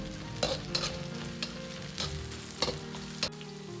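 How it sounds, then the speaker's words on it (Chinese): Scallion and ginger stir-fried with pork slices in a wok, a soft continuous sizzle over a low hum, punctuated by about half a dozen sharp spatula scrapes against the metal. "接着倒入葱姜，煸炒出香味。"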